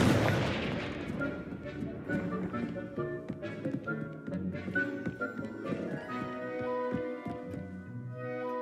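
A Confringo fire spell explodes in the Hogwarts Legacy video game, a series of booming blasts and crackling impacts layered over a sustained musical score, loud and continuous throughout.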